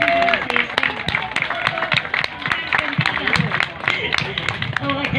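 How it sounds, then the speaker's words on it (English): Sparse, uneven clapping from a small outdoor crowd at an agricultural show, distinct individual claps in an irregular rhythm with voices and crowd murmur throughout. "Audience, can we just have a nice big round of applause for my two volunteers?"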